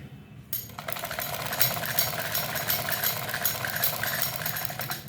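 Sewing machine stitching a pocket onto cotton pajamas, a steady fast mechanical whir with dense rhythmic needle clatter starting after a brief quiet moment and running continuously, close and fairly loud.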